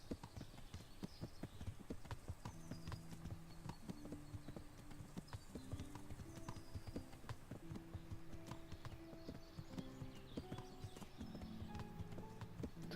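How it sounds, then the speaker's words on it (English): Rapid, steady horse hoofbeats from the video game Kingdom Come: Deliverance clip-clop continuously throughout, faint and even in rhythm, with occasional soft tonal notes in the background. "I like having my noble horse, my noble steed, Pebbles, the noblest of steeds."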